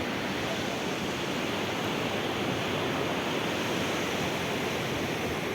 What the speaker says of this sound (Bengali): এই জাস্ট এতটা দূরে জল চলে আসছে পাড়ে